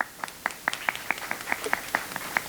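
Sparse, fairly faint clapping from a concert audience for a violinist at a Carnatic music harikatha performance, a steady run of separate claps over a couple of seconds with no talk.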